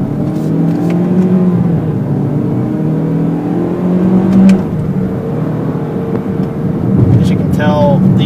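A 2020 Toyota Corolla hatchback accelerates hard in sport mode with paddle shifting. The close, loud engine note climbs, drops at each upshift, then climbs again.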